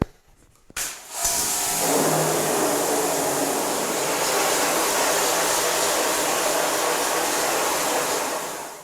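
A pressure washer blasts water across a screen printing screen to wash out the emulsion, a loud, steady broadband hiss that starts after a second of quiet and holds unbroken to the end.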